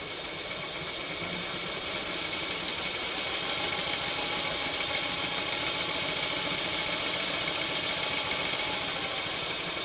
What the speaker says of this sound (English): that's Thomas up and running, hopefully